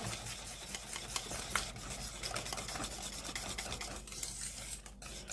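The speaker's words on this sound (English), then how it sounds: "You just need to vigorously mix it all together." Cake batter with eggs is mixed vigorously in a bowl, giving a continuous rubbing, scraping sound with rapid, irregular strokes, heard up close and without speech.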